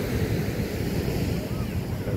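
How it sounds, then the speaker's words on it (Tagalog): Steady surf and gusting wind at a Zambales beach on an overcast day, a constant loud roar with wind buffeting the microphone throughout. "Kasi tabi ng dagat, mahangin pa."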